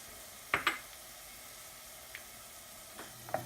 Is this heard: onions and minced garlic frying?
yes